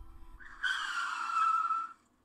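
A car's tires screech in one sustained skid of about a second and a half, loud and close, after a brief low rumble.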